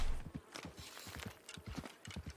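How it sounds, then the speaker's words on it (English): Quiet clip-clop of horse hooves walking in an uneven rhythm in the video game Wild RP, fairly faint and close, with no speech over it. "Why's I hear a horse?"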